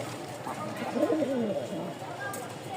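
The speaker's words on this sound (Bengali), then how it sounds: "ডাকা, এই দেখেন ডাক, ফাটাফাটি ডাকের নর" A male pigeon cooing in soft throaty rolls at a moderate distance, the calls rising and falling over about a second amid low background noise.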